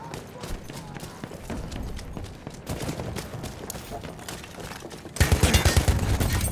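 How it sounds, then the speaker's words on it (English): An enemy machine gun firing in the Battlefield 1 trenches: a steady clatter of distant gunfire that breaks into a loud, rapid, close burst of automatic fire near the end. "There's an enemy machine gun!"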